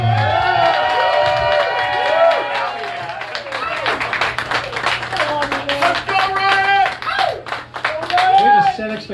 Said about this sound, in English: let's give a big round of applause to Ryan J. Everybody